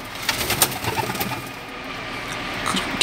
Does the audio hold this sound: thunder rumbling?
no